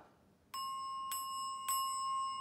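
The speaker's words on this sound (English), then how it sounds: "Listen for bells." Three clear bell strikes ring out in an English song, evenly spaced about half a second apart, each bright tone sustaining and overlapping the next, fairly quiet and alone.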